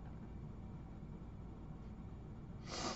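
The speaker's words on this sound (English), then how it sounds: "Let's give it a sniff and find out." Someone sniffs Simply Snuff's Horse Feathers nasal snuff: one short, sharp, close inhale near the end, after a steady low background hum.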